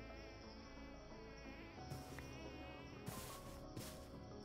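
A bee in Minecraft's RLCraft modpack buzzes in a steady, thin drone with a slightly wavering pitch. It is fairly close and carries on throughout under a few brief clicks, with no talking.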